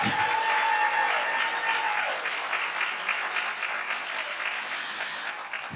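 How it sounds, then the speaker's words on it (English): A crowd at a general meeting breaks into steady, dense applause honoring staff service milestones, a sustained wash of clapping that gradually eases off. "And another round of applause for all of our 15 years"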